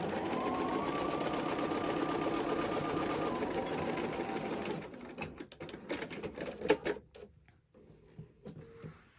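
A sewing machine runs a fast, steady whirring stitch on a crossbody bag for several seconds, then slows into scattered clicks and handling knocks as it stops.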